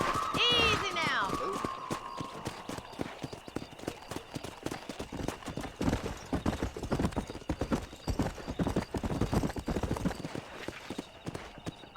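Horse hooves gallop in Red Dead Redemption, a steady rapid drumming of hoofbeats that follows a short neigh, running close throughout under occasional talk.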